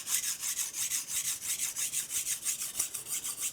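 Quick regular back-and-forth scraping of a knife blade across a whetstone, close and crisp, with evenly spaced strokes about six per second and no voices.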